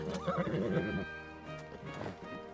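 A video game horse in Zelda: Tears of the Kingdom whinnies loudly with a shaky, rising-and-falling neigh, followed by snorting and hooves clopping nearby.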